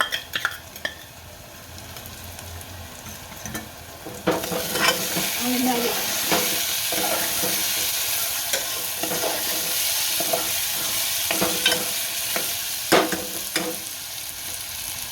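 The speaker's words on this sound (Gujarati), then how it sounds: "હવે આદુની પેસ્ટ નાખશું." Onions and potatoes sizzle in a hot pan as ginger paste goes in for a Gujarati chana batata shaak, with a loud steady frying hiss that swells after a few seconds and spoon scrapes and clinks while it is stirred.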